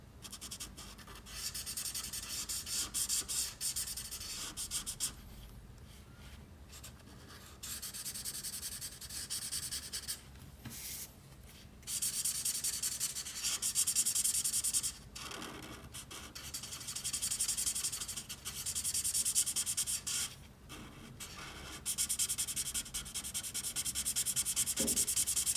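Touch 5 alcohol markers scratching and rubbing across paper while coloring a drawing, a steady close-up scritching in repeated strokes with short pauses between passes, no talking.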